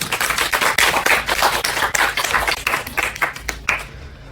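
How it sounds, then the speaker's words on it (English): An audience at a yoga satsanga gives a round of applause: close, energetic clapping with crisp individual hand claps that runs for about four seconds before cutting off. "So please give a round of applause."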